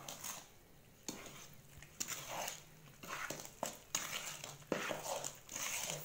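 Chocolate orange cake batter being mixed in a bowl, with soft scraping and knocking strokes in an uneven rhythm, close but quiet.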